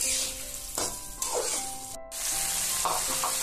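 Chopped onions sizzling in hot oil in a pan while chicken curry is cooked, a steady close frying hiss with a few clinks of a stirring spoon.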